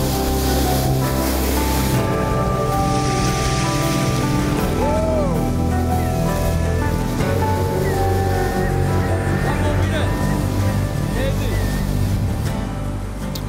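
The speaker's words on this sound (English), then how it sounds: "a few waves breaking" Ocean waves break on a cold, windswept beach in a steady, loud roar of surf and spray. Gusting wind and other outdoor noise run through it, and no voice is heard.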